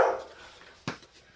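A puppy indoors gives a single short bark and a brief yip, close but fairly soft, with quiet room sound between them.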